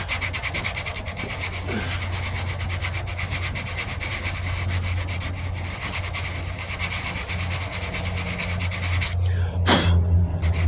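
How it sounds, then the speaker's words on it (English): Continuous hand sanding on a 1998 Ford Ranger passenger-side wheel arch repair, a steady close rubbing rasp that keeps up throughout without speech, ending with a brief sharper stroke near the end. "I'm gonna see if I can sand even to it."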